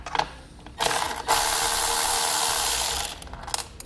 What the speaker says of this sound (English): You can use a 13mm socket to pull the nut off.